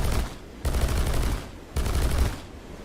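An aircraft's cannons fire in War Thunder as two loud, rapid bursts of dense, rumbling gunfire, each about a second long, separated by a short pause.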